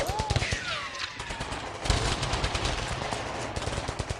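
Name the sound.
gunfire in a video game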